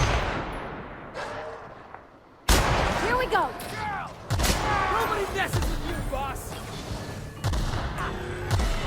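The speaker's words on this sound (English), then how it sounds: "there's a cannon behind that rock" Cannon fire and combat in The Outer Worlds: sharp booming shots and impacts burst in at intervals, loud and close, among clattering battle noise.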